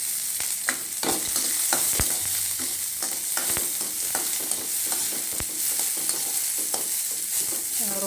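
Finely chopped small onions sauté in a pan for a greens dish, giving a continuous sizzle broken by frequent sharp clicks of stirring, close and alone without any talk.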